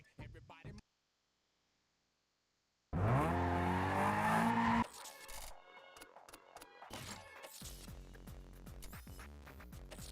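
A loud burst of engine roar with squealing tires in the video game Need for Speed: Most Wanted (2005) cuts in after a silent gap, followed by continued engine noise and busy mechanical sounds.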